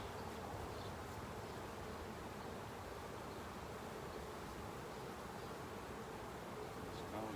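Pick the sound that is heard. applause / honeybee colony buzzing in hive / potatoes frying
honeybee colony buzzing in hive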